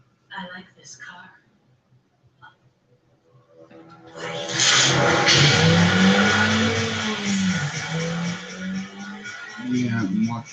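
Race cars in a Terminator 3: Rise of the Machines movie scene roar up loudly and skid with squealing tires, a sustained engine rush that swells and falls, with voices speaking over it.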